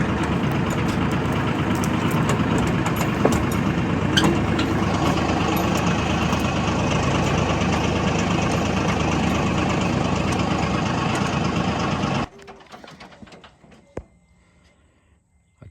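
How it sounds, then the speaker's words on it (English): Tractor engine idling close by, a steady loud low rumble with knocking vibration that runs evenly for about twelve seconds before cutting out abruptly, leaving faint background noise. "Let me get my tractor."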